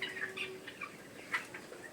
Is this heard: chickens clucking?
yes